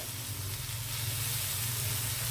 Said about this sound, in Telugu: ఇప్పుడు మరలా ఒక చుక్క ఒక డ్రాపు ఆయిల్ వేద్దామండి చుట్టూను ఇలా